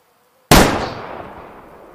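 A rifle shot fired in the hunting video game Way of the Hunter rings out as a single sudden loud blast after silence, with a long ringing, fading tail.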